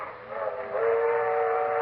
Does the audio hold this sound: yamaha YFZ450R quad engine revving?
no